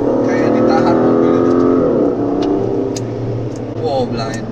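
A car engine revs hard while the car takes a steeply banked carousel on a legendary race track, heard loud from inside the car as people talk.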